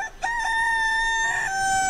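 A rooster crows once, near and clear, a long drawn-out call after a short clucking start, steady and bright against a quiet background.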